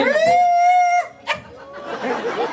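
Dog howling loud and close, one sustained rising tone for about a second, then a short yelp and a rougher, breathier trailing howl.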